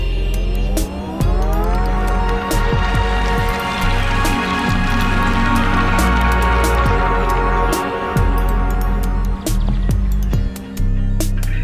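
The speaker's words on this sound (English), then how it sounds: "Here is the sound of our engine." A 2020 Fiat 500 electric car's engine sound: a sustained electronic tone holding steady chords with shifting notes, like a synthesized melody played over a low engine hum, loud and continuous.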